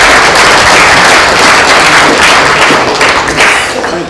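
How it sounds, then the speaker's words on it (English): Sustained round of applause at a council meeting, a dense wash of many hands clapping loudly and evenly throughout, tapering slightly at the very end. "Round of applause"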